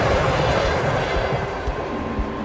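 Distant trains running in the video game Fall of Porcupine, a steady low rumble with soft rhythmic rolling thumps beneath a wide hissing wash, continuous and far off.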